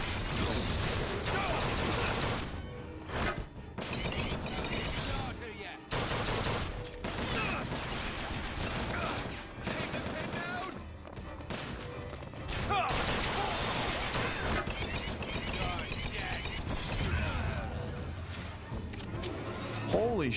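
Bioshock Infinite gunfire rattles in dense, repeated bursts across a long stretch of chaotic combat, with machine-gun volleys and impacts mixed under frequent talking.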